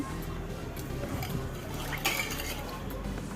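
Rice pudding (pal payasam) with milk and sugar is stirred in a pressure cooker on a gas stove, giving soft liquid swishing and light metallic clinks over a steady background hiss, while someone speaks briefly.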